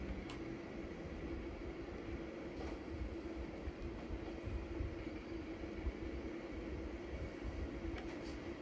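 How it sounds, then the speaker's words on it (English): A train coasts on level ground in Train Sim World 4 with the throttle at zero. A steady, even rolling rumble of wheels on rail carries on for the whole stretch, with faint clicks and a constant cab hum. "The train will then coast on level ground, and the train will only slow down very gradually."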